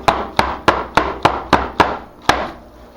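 A soap mold holding cold process soap is tapped down on a hard surface eight times in quick, fairly even succession, each knock sharp and close with a short hollow ring.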